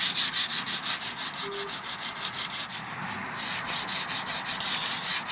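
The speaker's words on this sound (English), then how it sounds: "Keep sanding until all the marks have been removed" Steady back-and-forth sandpaper rubbing on uPVC window frame, close up, in a regular rhythmic stroke pattern with a rough, hissing texture.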